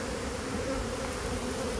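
Very angry honey bees buzz during requeening of a hive, a dense, continuous swarm drone that stays loud and close throughout, with no voices.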